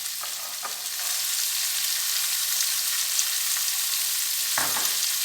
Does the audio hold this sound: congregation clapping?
no